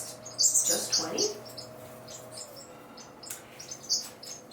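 Small aviary birds give scattered high chirps and tweets, a few close bursts standing out over a faint background hum.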